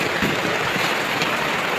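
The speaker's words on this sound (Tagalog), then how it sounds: "umuulan pang lakas ng ulan ngayon dito" Heavy rain pours steadily, a dense unbroken hiss of drops hitting surfaces close by, with no voices over it.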